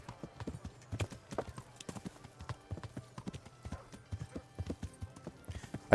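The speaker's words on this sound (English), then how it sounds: "I don't have full control of my horse." Horse hooves clip-clop in steady rhythm in the medieval video game Kingdom Come: Deliverance, soft and moderately close, with faint background ambience.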